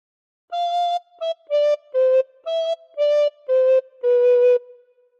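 A recorder plays a slow phrase of the Welsh tune Ar Hyd y Nos as eight clean, separate notes that step gently downward. The final note is held longest, and there is no talking.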